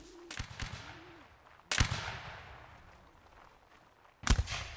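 Musket shots fired at skirmishers in a Napoleonic Wars line battle game: a few close bursts, then two sharp, loud reports spaced well apart, each with a short echoing tail over a faint battlefield background.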